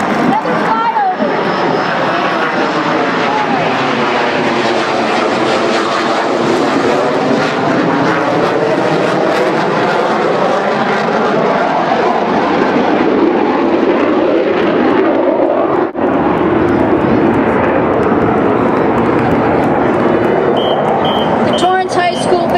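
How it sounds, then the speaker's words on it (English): Loud aircraft flyover at an armed forces parade, a sustained engine roar with shifting, sweeping tones that swells and holds for about twenty seconds, with an announcer's voice faintly beneath. "Another flyover."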